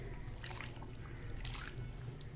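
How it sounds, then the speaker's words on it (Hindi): Water trickles steadily into a bowl of raw chicken mixed with vinegar for washing, a faint, continuous splashing pour with no talking. "उसमें पानी शामिल करेंगे ताकि ये चिकन इसमें डिप हो जाए"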